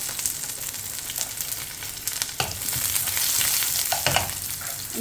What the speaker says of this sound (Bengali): এই যে এখানে কয়েকটা রসুন কুচি দিয়ে দিলাম